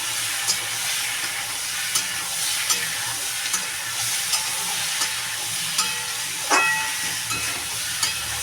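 Vegetables with potato and cumin powder sauté in a pan with a steady, hissing sizzle throughout, broken by occasional light clicks and one louder scrape of the stirring spoon.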